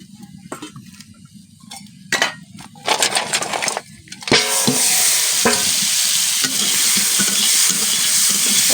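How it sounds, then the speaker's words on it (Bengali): Prawn legs dropped into hot oil in a wok: several sharp stirring clatters and knocks come first, then a loud, continuous sizzle of frying takes over and holds steady to the end. "কড়াইতে তেল যেটুকু ছিল সেইটুকু নামিয়ে নিয়েছি, আর মাছের পাগুলো ভেজে নিব।"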